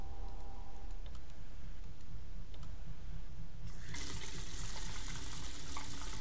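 Water runs from a broken faucet in the video game Neofeud, a steady hiss that suddenly swells into a louder, brighter gushing rush partway through, with no voices.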